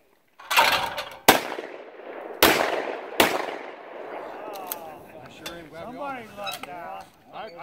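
Shotguns fire at skeet targets outdoors, four loud sharp blasts spaced about a second apart, each with a ringing echo tail, followed by people talking.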